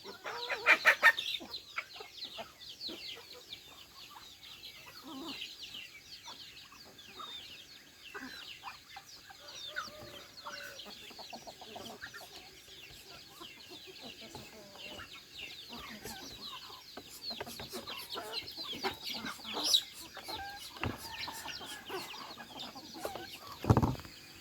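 Chickens clucking on a rice farm in Laos, with many hens scattered near and far giving irregular clucks and squawks and occasional louder calls, while people talk softly in the background.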